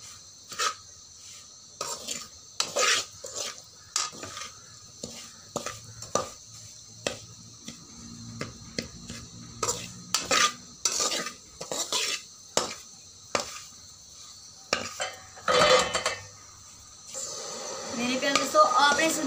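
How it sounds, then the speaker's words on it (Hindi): Semolina being roasted for halwa, stirred with a spoon in a pan: repeated scraping and clinking strokes come in an irregular rhythm, close by, with a faint sizzle rising toward the end. "अब हम इसको हिलाएंगे।"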